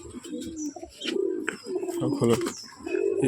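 Pigeons of several fancy breeds, including Rampuri and golden types kept for sale, coo in low repeated throaty calls close by, with a person's voice mixed in.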